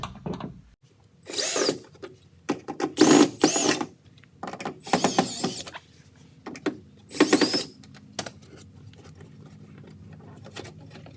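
A power drill unscrews the door speaker bracket inside a Toyota FJ Cruiser, with several short, sharp, close bursts of whirring separated by pauses and quiet handling.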